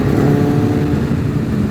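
A Kawasaki ZX-6 Ninja motorcycle engine idles in a rebuild, a loud, steady, close rumble with no change in pitch across the short stretch and no talk.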